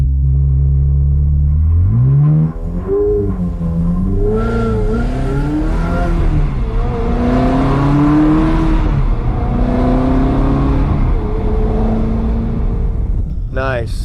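Ferrari engine accelerating hard on a drive, loud and close, climbing through several gear pulls with rising pitch sweeps and a continuous roar, brief voice near the end.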